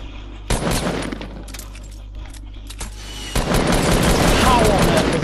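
Gunfire in the video game Fortnite: a few sharp shots crack out early, then a dense, continuous burst of rapid fire carries on loudly to the end.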